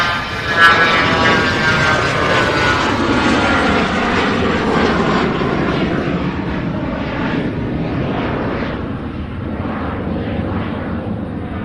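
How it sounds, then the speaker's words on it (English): Louisville airport apron during an MD-11 pushback, with a loud, steady roar of jet engines and ground equipment that is close and continuous and slowly eases. "we have our first MD-11 pushback"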